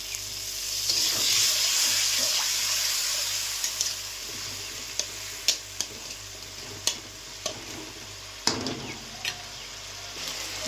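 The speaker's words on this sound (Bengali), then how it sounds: "দিয়ে দেবো অল্প জল" A splash of water goes into rui fish masala frying in a pan, a brief hissing burst at first that settles into a soft simmering sizzle, punctuated by scattered clinks of a spoon stirring; no voices.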